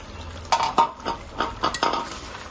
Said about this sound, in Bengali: ঢাকনা দিয়ে দিব।